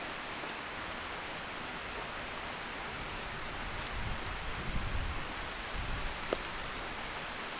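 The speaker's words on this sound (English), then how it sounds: "Chilly wind." Chilly wind blows outdoors among cottonwood trees as a steady, broad rushing hiss with low buffeting rumbles that swell gently midway, with no one talking.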